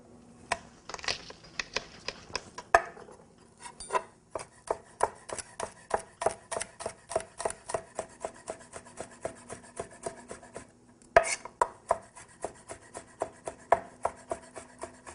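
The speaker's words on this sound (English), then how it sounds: "Next will be 1 clove of garlic, which we're going to chop very fine." A knife finely chops a garlic clove on a board in quick, even, close-up strikes, with a few brief pauses in the steady rhythm.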